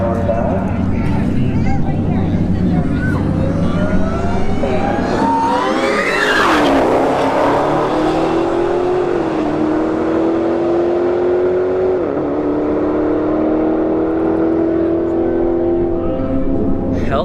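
Dodge Challenger Hellcat Redeye on a drag strip during street-heat racing, loud engine roaring continuously as it launches and accelerates hard through several gear shifts, rising and settling pitch over a long, steady pull.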